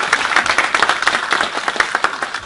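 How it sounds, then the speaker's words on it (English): Audience applause at an international awards presentation ceremony in Oslo, Norway: dense, steady clapping from a crowd filling the room, close and loud with no pauses. "Can I hear another big round of applause from Sri Kumar?"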